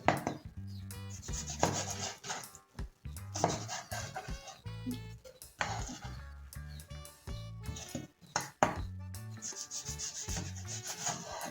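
Repeated knife strokes through firm tropical fruit on a cutting board for a smoothie, irregular chopping and scraping sounds close up, with no one speaking.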